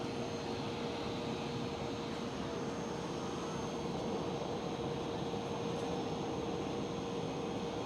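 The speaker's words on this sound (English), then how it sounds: "Little private jet took off from runway 22." Small private jet taking off from runway 22 at Schiphol Airport, a steady, broad engine roar heard from a distance, holding level throughout with no voices.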